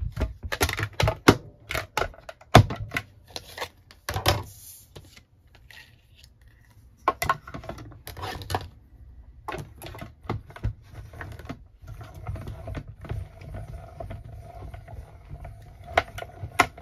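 A Stampin' Cut and Emboss mini die-cutting machine cranking a die through cardstock, giving a close run of dense clicking and ratcheting bursts with brief pauses between.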